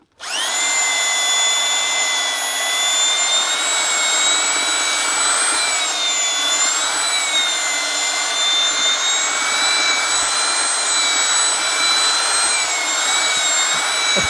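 Mixing paddle on an electric drill churns tile powder mix in a bucket for retiling a swimming pool floor, a loud, steady whine that starts abruptly and runs continuously with a slight dip in pitch midway, no talking over it.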